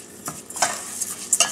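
Basmati rice being stirred and fried in a pan for peas pulav, with soft sizzling and a few scraping, clinking strokes of a utensil against the pan, close and without talk.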